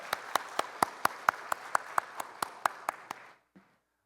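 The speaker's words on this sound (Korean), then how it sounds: "우리 하나님께 다시 한번 영광의 박수 올려드리겠습니다." A church congregation claps together in a steady, even rhythm, about fourteen sharp claps in a row, before the clapping stops and the room goes quiet.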